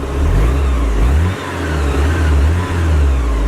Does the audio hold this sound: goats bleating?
no